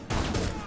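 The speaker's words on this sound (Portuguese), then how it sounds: "o cara te deu um tiro de 12" A short, dense burst of gunfire from the Rainbow Six Siege video game, a loud blast spreading into a rattling crackle that fades over under a second, with voices faintly present.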